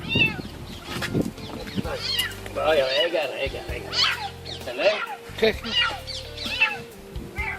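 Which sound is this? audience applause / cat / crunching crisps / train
cat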